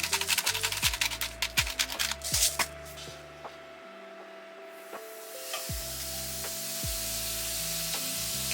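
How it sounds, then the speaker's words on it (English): A steak searing in a frying pan during home meal prep, with steady crackling sizzle and sharp clatters and taps in the first seconds, then a quieter stretch before the frying hiss returns, close and continuous. "I'm gonna let it sear and then flip it over"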